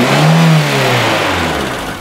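A Renault Twingo engine revs up under acceleration with a loud, close, rising drone, then holds and eases off slightly while the pitch wavers.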